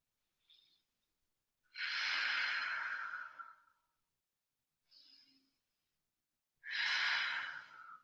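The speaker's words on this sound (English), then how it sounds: "Take 2 deep breaths." Two slow, deep breaths during a yoga calf stretch, each a soft inhale followed by a long, close, audible exhale in a quiet room.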